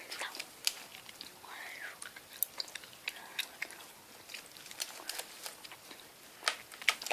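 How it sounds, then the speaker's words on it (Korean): Soft, close chewing and smacking of grape-flavoured Mychew chewy candy, with faint irregular clicks and brief low whispery voice sounds mixed in. "그 다음에는 포도를 먹어보겠습니다."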